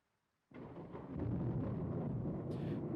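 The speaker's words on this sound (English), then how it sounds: "As the thunder and rain grow intensely, the windows began condensate with moisture" Thunder and rain in the Corpse Party video game rise suddenly into a steady, dense rumble with heavy rainfall, loud and continuous after a brief silence.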